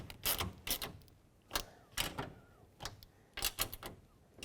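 Ratchet turning a nut on a 2011–2017 Honda Odyssey side mirror, quiet close clicking bursts in irregular short runs separated by brief pauses.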